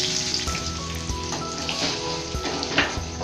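Turmeric and chili powder paste, stirred together in a bowl, sizzles and spatters steadily in a hot pan for rui fish in mustard gravy, a dense continuous crackle close up with no voices.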